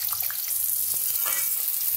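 Potatoes frying in leftover oil, a constant bright sizzle with a faint stir knock, steady and close throughout, no talking.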